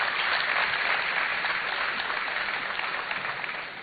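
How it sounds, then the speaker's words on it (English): Steady applause from a crowd at a university launch event for student entrepreneurship, a dense even patter of clapping that holds for several seconds and fades slightly at the end. "A better round of applause for him, ladies and gentlemen."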